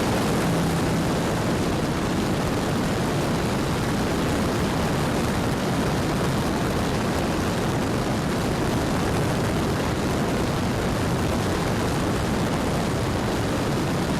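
A repaired Timber X RC airplane roars with its propeller engine, a loud, steady wash of buzzing drone and wind noise that holds without pause.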